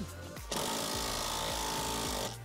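Rear shock absorber bolt on a Fiat Grande Punto being tightened with a power tool: one loud, close, steady buzzing whir that lasts about two seconds, then stops abruptly.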